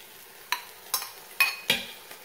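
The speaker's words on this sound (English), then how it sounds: "we're also going to add 3 cups of diced tomatoes" Diced tomatoes go into an Instant Pot of vegan lasagna soup with a few sharp, close clinks and scrapes of a utensil against the pot, spaced roughly evenly over a quiet background.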